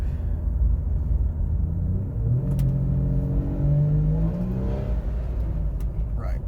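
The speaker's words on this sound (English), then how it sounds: "If I put my foot down at all, it won't grab a gear. It just revs out." A 2004 GMC Envoy XUV engine revs up and climbs in pitch without the failing transmission catching a gear, a loud rising whine over a low rumble, then it eases back.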